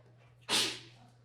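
A single sharp sneeze during a church sermon, sudden and fairly loud with a quick hissing burst that fades within half a second over a low steady hum.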